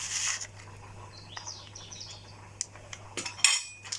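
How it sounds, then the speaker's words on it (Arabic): Dry flour, salt, cinnamon and yeast being stirred together in a bowl with a spoon, scattered light scraping and clinks against the bowl, a few sharper knocks near the end, no talk. "وغادي نخلط هاد العناصر يدخلوا بعضياتهم هكا"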